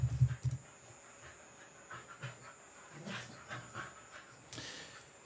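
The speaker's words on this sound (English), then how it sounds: "My dogs are going crazy" Dogs panting and shuffling close to the microphone, a loud burst of heavy breathing at the start, then softer huffs and movement continuing throughout.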